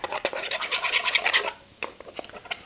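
A spoon stirs cornstarch into orange chicken sauce inside an Instant Pot pressure cooker, making steady close scraping and swishing strokes for about a second and a half, then sparser clinks and scrapes.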